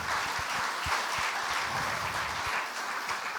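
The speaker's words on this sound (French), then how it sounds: "All the women were clapping." Women in a church audience applaud during a sermon, a moderately quiet, steady wash of clapping heard from a distance throughout.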